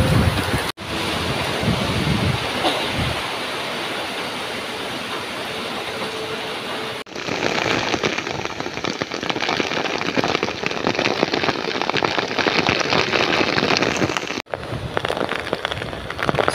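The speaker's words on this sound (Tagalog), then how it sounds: "Grabe yung lakas ng buhos ng ulan dito." Heavy typhoon rain and gusting wind pound outdoors in Camarines Sur, a loud continuous roaring wash with abrupt shifts in intensity as gusts hit, close and overwhelming.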